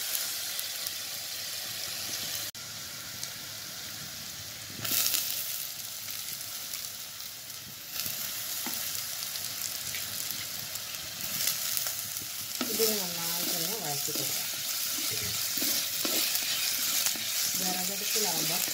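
Stirring and frying in a pan over a wood-fired stove while making ayala mulakittathu, a steady close sizzle broken by repeated spoon scrapes and clatter, with faint background sounds.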